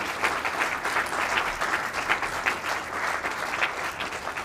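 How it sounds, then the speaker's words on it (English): Audience at an academic summer institute in Oxford applauding, a sustained round of dense clapping from a crowd, steady throughout. "we should all give Dr. Charles Small a round of applause"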